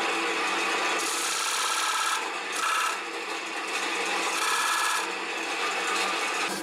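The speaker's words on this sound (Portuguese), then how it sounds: "eu vou usar esse formão que ele faz um corte" Wood chisel cutting into a wooden plate spinning on a lathe, a continuous close rasping scrape that swells and eases in a few passes, fairly loud, with no voices.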